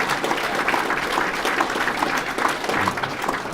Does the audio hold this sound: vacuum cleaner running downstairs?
no